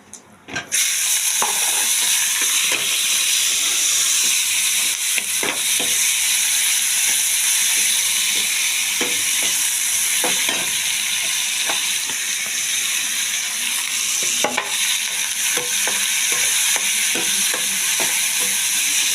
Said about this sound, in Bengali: এভাবে চিংড়ি মাছটা আমি ছেড়ে দেবো